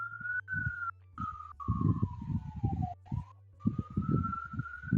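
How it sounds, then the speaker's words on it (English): A police siren wails in a long, slowly falling tone, briefly cut off, over a low engine rumble and busy background noise. "That's the sound of the police."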